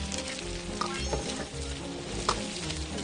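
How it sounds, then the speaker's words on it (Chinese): Pork intestines frying in a little oil with ginger, garlic and small chilies, a dense, continuous sizzle with crackling spatter and occasional stirring scrapes, close and steady. "煎香这个小料以后，我们就下这个肥肠了。"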